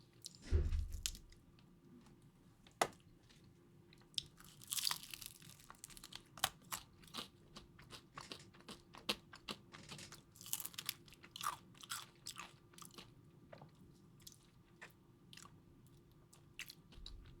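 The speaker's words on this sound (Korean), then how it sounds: "얼마 만에 치킨이지? 너무 맛있다." Fried chicken crunched and chewed up close, with sharp crispy bites followed by a long run of irregular crunches and wet chewing sounds, fairly quiet and with no talk.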